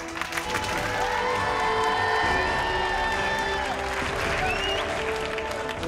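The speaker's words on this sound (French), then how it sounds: "J'aimerais qu'on l'applaudisse, c'est Mélanie" A crowd applauds and cheers for a young woman introduced to them, with steady dense clapping, whoops and shouts throughout, and voices calling out over it.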